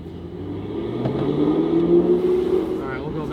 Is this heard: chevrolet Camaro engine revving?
yes